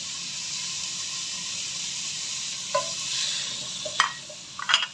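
Chopped tomatoes frying in a pan for a potato and green pea curry, giving a steady close hiss of sizzling oil with a few short scraping stirs toward the end and no talking.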